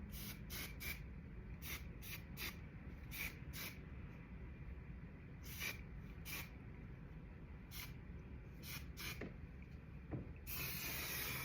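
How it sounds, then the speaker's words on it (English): Hairspray hisses out of an aerosol can in a quick series of short bursts, some single and some paired, ending in one longer spray at close range with no talking. "Hairspray."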